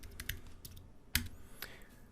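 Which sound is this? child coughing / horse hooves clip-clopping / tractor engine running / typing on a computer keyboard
typing on a computer keyboard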